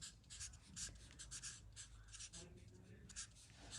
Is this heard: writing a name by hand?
yes